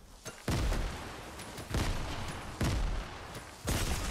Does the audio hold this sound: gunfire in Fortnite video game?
yes